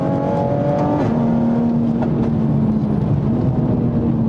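A 2020 Toyota Supra on a track, its engine droning loudly while driving and shifting through gears, with pitch changes near the start and again later, recorded from inside the car with no talking.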